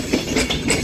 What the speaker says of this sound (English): This Avanti West Coast is forming the 15:09 Avanti West Coast service to Edinburgh Waverley with a class 390 Pendolino